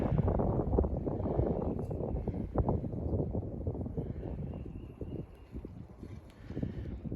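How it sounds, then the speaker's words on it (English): Wind blows outdoors beside a creek during early-spring ultralight fishing. It produces a continuous low buffeting rumble across the microphone, steady and fairly faint, with no other clear sounds. "This wind, I'm sorry if the wind is blowing too much."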